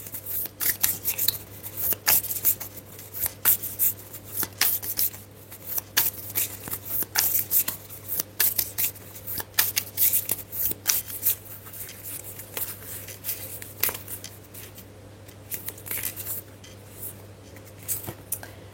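Oracle cards are shuffled at length before a card is drawn, making a steady run of close, dry riffling and sliding bursts over a low constant hum, without talk.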